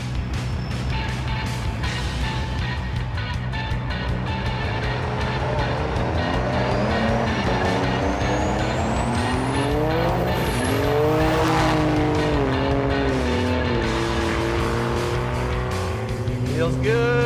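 A Ram 3500 Cummins turbo diesel dually pickup launches down a drag strip, its engine note rising through the gears with a high turbo whine, loud and sustained, as people talk faintly underneath.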